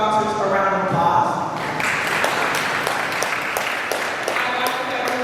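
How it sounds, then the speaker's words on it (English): Crowd applause for partners and sponsors at a community summer hires event, clapping building up after some overlapping voices and then holding steady with scattered sharp claps throughout. "let's give our partners and sponsors a round of applause"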